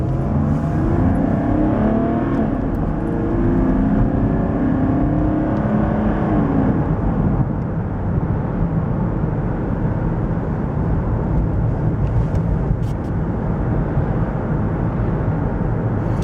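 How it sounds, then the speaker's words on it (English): A Mercedes W124 300TD straight-six multivalve diesel engine drones loudly and continuously, its pitch rising gradually as the car accelerates, with a deep, throaty tone throughout and no talking. "I know it's a diesel, but the sound you get from the engine's really nice."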